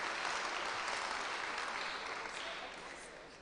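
Audience members clap at a national public speaking competition finale held at a secondary school. The dense applause starts strong and gradually tapers off, with voices mixed into the fading clapping.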